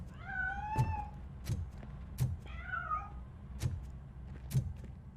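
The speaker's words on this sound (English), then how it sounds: "That cat must be hiding inside." In the video game RoboCop: Rogue City, a cat meows several times in short, distinct calls, mixed with dull thumps and knocks at irregular intervals against a quiet background.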